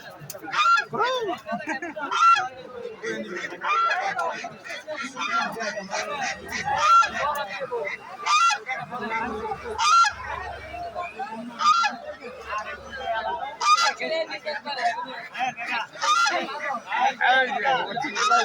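Chinese geese for sale at a busy village market call again and again in loud, repeated honking quacks, mixed with a busy babble of human chatter throughout.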